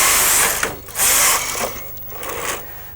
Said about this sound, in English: The machine is telling us to knit 2 rows with our knitting carriage.